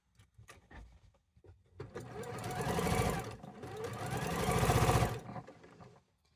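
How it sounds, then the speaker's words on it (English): A sewing machine stitches a quilt block seam in two steady runs of rapid, close mechanical whirring, with a short pause between them and a few soft clicks before and after. "I'm just basically going to sew this side down now."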